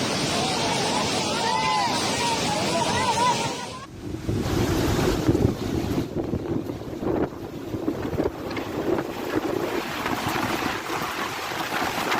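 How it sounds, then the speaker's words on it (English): Raging floodwater surges after heavy rain, strong enough to sweep a truck away: a loud, continuous broadband roar with wind buffeting the microphone and a brief dip partway through. "Heavy rain triggered severe flooding, and the raging water swept a truck away as if it weighed nothing."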